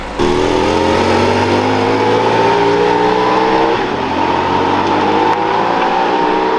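A Porsche GT4 RS engine drones loud and steady as the car pulls away for three laps on a circuit, its pitch climbing slowly with a brief dip mid-run, close and with no talk.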